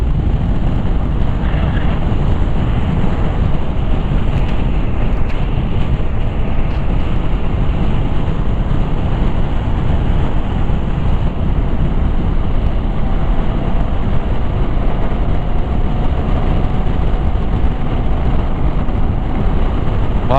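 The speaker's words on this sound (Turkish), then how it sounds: "rüzgar esmeye başladı." Steady broadband wind rush with low rumble buffeting the microphone while riding a Honda Forza 250 scooter near Ömerli Dam, continuous and loud throughout, no voices.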